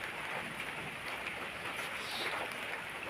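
Steady rain falls outside a village home on an early morning, a soft even hiss of drops with no break, faint and distant.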